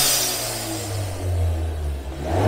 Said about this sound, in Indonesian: ketika kita gas, kita lepas gitu ada bunyi ngencus